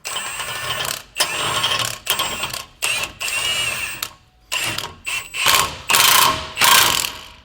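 Ratchet cranking down a nut during a 3-inch lift kit install on a 2024 GMC 2500 truck, a close, loud series of rapid clicking strokes in short bursts with brief pauses between.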